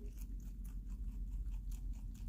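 A pet rabbit munches its breakfast close by, with soft continuous crunching and chewing in quick irregular bites over a low background rumble.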